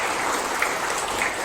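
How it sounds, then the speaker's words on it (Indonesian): Congregation clapping together during a church Advent service, a dense, steady wash of applause lasting the whole short moment with no voices over it. "Ya, kita tepuk tangan yang meriah."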